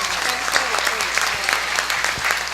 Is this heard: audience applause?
yes